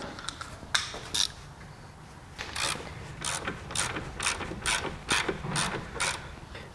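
A hand ratchet clicks in quick bursts while a nut is tightened onto a car's steering tie rod, with sharp, close metallic ticking in uneven runs and short pauses, no one speaking.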